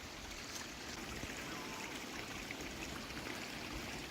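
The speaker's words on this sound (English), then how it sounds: "Got a little waterfall." A small waterfall flows at the Mahoosuc Public Land Reserve in Maine, a steady, broad rushing hiss of falling water, constant and fairly faint, with no voices.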